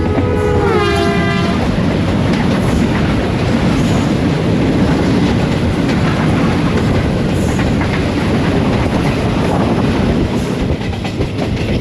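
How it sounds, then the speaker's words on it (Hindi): Two Tezgam express trains cross each other on the Khanewal–Lahore line in Pakistan: a loud, continuous roar of wheels and passing carriages, with a horn blast at the start and steady rattling throughout. "सामने से केप टाउन तेज़गाम दोनों सिस्टर ट्रेन का क्रॉस हो रहा है।"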